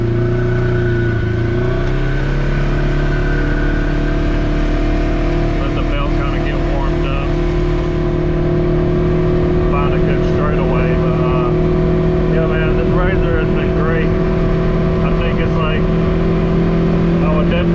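A tuned Polaris RZR Highlifter side-by-side cruises at speed in high gear, its engine holding a loud, steady drone with a brief rise in pitch near the start, close and continuous throughout.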